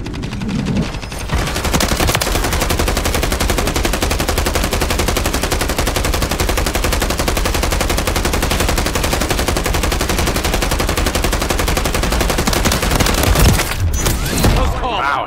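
Gunfire in the video game Modern Warfare 3: a loud, unbroken stream of rapid automatic fire that goes on for more than ten seconds, starting with a short pause and ending with a brief break and a last burst.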